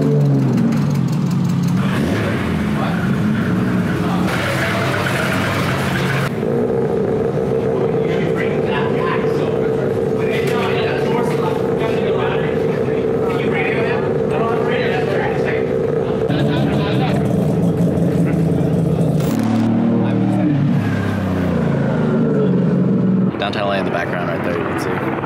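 A group of cars pulls out together from someone's garage, engines revving and passing close by in layered waves, with people talking throughout.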